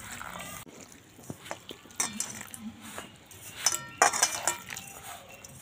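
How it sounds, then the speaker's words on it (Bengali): A spoon clinks and scrapes against a bowl while pitha batter is mixed with boiled, cooled cow's milk added bit by bit; light, irregular taps and wet stirring, fairly close and quiet. "এইভাবে অল্প অল্প দেব আর মেশাতে থাকবো।"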